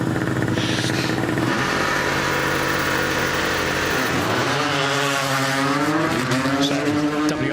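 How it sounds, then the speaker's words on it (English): A WRC2 Toyota Yaris rally car launches off the start line of a forest rally stage, its engine roaring loudly as the revs rise, drop and climb again through gear changes, close and dominant. "WRC2 Toyota Yaris off the line with the McLeods, father and son."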